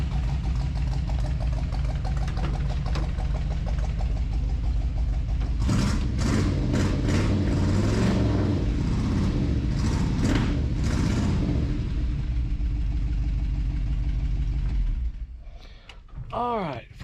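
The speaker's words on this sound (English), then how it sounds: "Got the old solid lifters, you know, so the engine makes a little bit of noise" A 1965 Dodge D200 truck engine with solid lifters idling close by with a steady rhythmic mechanical ticking and clatter, running throughout before the sound drops near the end.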